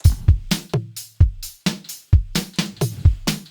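Dry drum-synth beat from Drumaxx in FL Studio with no effects applied: punchy kicks and snappy hits in a loose, repeating rhythm, close and clean with short decays and gaps between hits.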